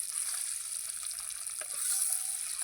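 Eggs dropped into hot oil with turmeric sizzle and crackle in a steady, fairly faint bright hiss, with a few small pops, no voices.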